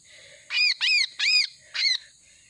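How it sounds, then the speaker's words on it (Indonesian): A kutilang, the sooty-headed bulbul, calls close and clear with four bright, rapid chirps in an uneven rhythm over quiet background. "Ini kutilangnya guys"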